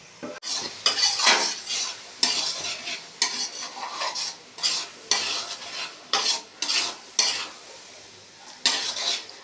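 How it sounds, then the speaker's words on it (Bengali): Marinated chicken frying in spiced masala in a pan, stirred with a metal spoon in repeated scraping bursts over a loud continuous sizzle, close up with no talking. "এই যে ম্যারিনেট করা চিকেন এবার দিয়ে দেবো এর মধ্যে"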